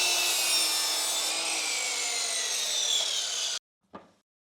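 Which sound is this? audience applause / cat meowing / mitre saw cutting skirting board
mitre saw cutting skirting board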